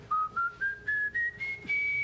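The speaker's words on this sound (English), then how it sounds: "Whistle a little something for us." A man whistles a short tune of seven clear, evenly spaced notes, each held briefly and stepping gradually upward in pitch, close and alone with no talk.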